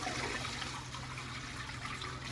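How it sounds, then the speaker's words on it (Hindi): Hot water gushing strongly from a kitchen tap, a steady, dense rush of flowing water that holds constant throughout, fairly close and with no voices. "और इसमें पानी फिर खोल देते हैं। पानी आ रहा है एकदम गरम मजबूत"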